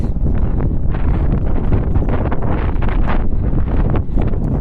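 Strong outdoor wind buffeting the microphone on a cold day during a walk, a loud continuous low rumble with gusty surges and faint rustling, no talking.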